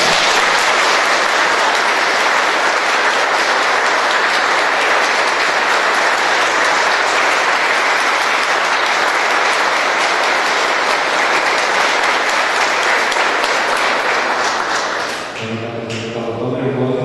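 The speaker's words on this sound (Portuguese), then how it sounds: "Vamos a eles dar uma salva de palmas." Congregation at a golden wedding anniversary Mass breaks into sustained, loud applause that fills the church for about fifteen seconds before tapering off into a few scattered claps.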